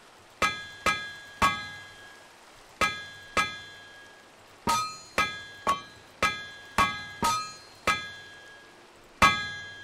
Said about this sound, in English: for these operations, I need the hammer in the anvil